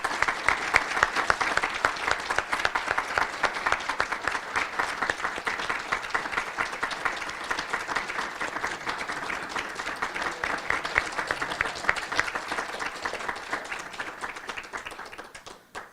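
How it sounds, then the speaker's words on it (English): A large audience gives a long round of applause for students at a county artists and scholars recognition program, dense steady clapping that stays full and even for the whole stretch before tapering slightly at the end. "And now, if we could have a round of applause for all of our students."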